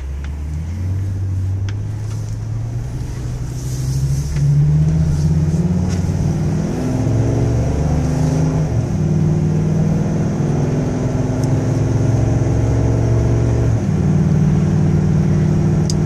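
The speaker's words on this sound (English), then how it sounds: "Let's take it for a little ride down the street." A 2002 Ford Excursion Limited rolls down a street, its engine droning steadily from inside the cab, rising in pitch as it accelerates and shifts through smooth gear changes, with no talking.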